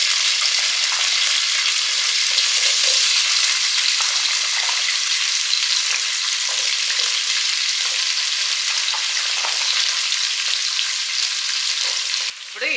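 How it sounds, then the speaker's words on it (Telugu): Drumsticks, carrots, brinjal and radish for sambar sizzle and fry in a pan, a continuous bright crackling hiss with stirring scrapes, loud and close, ending with a clatter. "ఈ వెజిటేబుల్స్ ఇప్పుడు మనం ఇందులో వేసుకోవాలి."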